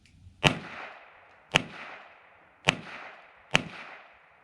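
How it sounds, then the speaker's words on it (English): An H&R Young America double-action .22 rimfire revolver fires four sharp, loud shots about one second apart, each crack trailing off into a short outdoor echo, with no one talking. "So I'll do 16 rounds, 4 rounds rapid fire in the gut"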